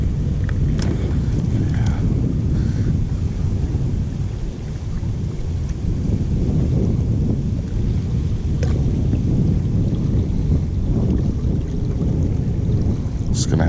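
Wind gusts and buffets loudly and continuously beside the Willamette River, a rough low rumble across the open air with occasional faint knocks.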